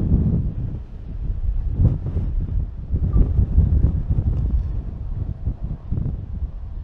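Strong wind roars and buffets the microphone outdoors while a drone is flown before a storm, a loud, gusty low rumble that surges and fades without letup.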